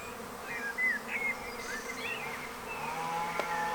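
Honeybees buzzing around a bait hive, a soft steady drone with individual bees zipping past close by, no voices.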